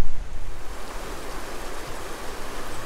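Mill Creek flowing beneath a town greenway bridge in Old Fort, North Carolina, a steady close rush of water with no voices.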